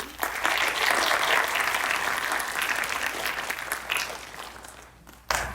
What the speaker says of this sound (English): I'll hand up one round of applause to our lovely panel.